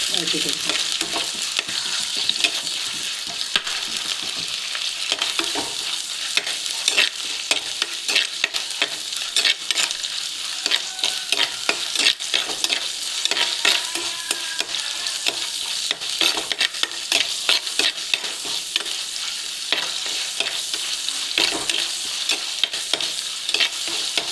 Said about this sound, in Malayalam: പച്ചമുളക്, ഇഞ്ചി, വെളുത്തുള്ളി, കറിവേപ്പില ഇത് ഇടുക.